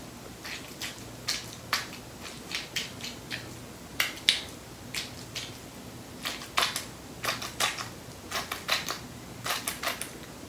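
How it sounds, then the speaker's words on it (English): Layered Foley for a heart being ripped out of a chest gives a squishy, bone-breaking texture, heard as a close series of sharp cracks and snaps in irregular clusters over a soft background. "it becomes the squishy, bone-breaking sound of somebody ripping their heart out of their chest"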